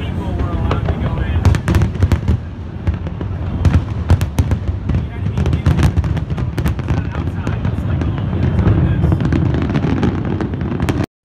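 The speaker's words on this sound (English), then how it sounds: "The Macy's 4th of July fireworks show is one of the most famous and largest fireworks displays in the United States" The Macy's 4th of July fireworks display over New York's East River, launched from barges, fills the air with a dense, continuous barrage of booms, pops and crackles. Narration runs over the bursts.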